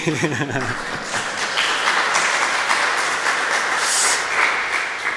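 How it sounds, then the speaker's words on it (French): A church congregation at a Protestant temple service in Bergerac breaks into applause, with the clapping spread across the room and a voice speaking over it at the start. "l'applaudissement, c'est dire vraiment la reconnaissance aussi"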